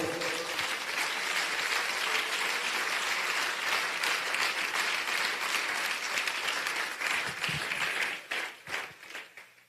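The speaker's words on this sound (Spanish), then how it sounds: "Dele un mejor aplauso a Él, por favor." A church congregation applauds steadily during a sermon for several seconds, a dense wash of clapping that thins into scattered claps and dies away at the end.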